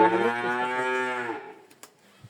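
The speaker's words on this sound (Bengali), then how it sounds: "তার কাছে বাসাইকৃত কিছু উন্নত জাতের বকনা গরু আমরা দেখতে পাচ্ছি" A single long, loud moo comes from a high-quality heifer at a dairy farm. It is close and clear, trails off, and is followed by near silence.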